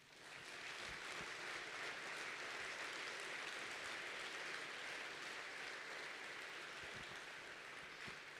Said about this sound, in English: Can we give a humongous round of applause for our sponsors?